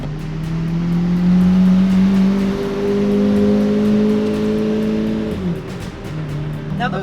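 A Lamborghini Murcielago with a gated manual gearbox accelerates in a loud, sustained engine drone that climbs steadily, dips briefly at a gear change, and then pulls on again.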